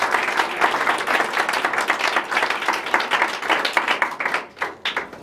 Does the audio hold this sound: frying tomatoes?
no